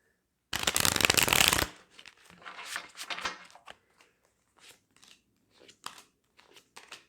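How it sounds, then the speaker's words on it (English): A loud, quick riffle of tarot cards being shuffled, followed by softer intermittent shuffling and tapping sounds at close range. "I'll shuffle here since you guys like my shuffling."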